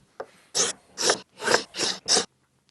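A Stanley No 12 cabinet scraper scraping wood makes five evenly spaced rasping strokes, each lasting about a third of a second, close and moderately loud, with brief quiet gaps in between and no voices.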